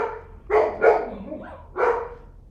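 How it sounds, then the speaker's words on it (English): Nearby dogs bark indoors, three or four clear loud barks with short gaps and a softer yip between, heard alone against a quiet room. "Those dogs, I swear."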